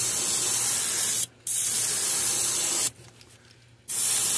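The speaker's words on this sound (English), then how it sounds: "what we're going to do with this sapphire blue is we're we're just gonna take and spray it right over the top of the back" Sapphire blue paint sprayed from an airbrush onto the back of a fishing lure for a threadfin shad pattern; a loud, close, steady hiss runs in two long bursts separated by brief pauses, with no talking.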